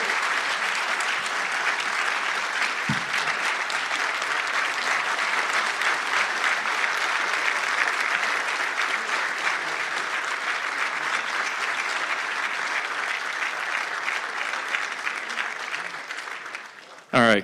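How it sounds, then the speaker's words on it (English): A press conference audience applauds a newly introduced football coach with long, steady, dense clapping that fades near the end before a brief louder burst. "One last round of applause for our new coach."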